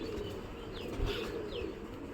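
Pigeons coo softly in a steady low murmur close by, with a couple of brief higher chirps and a faint flutter of wings during short flights over ongoing background noise.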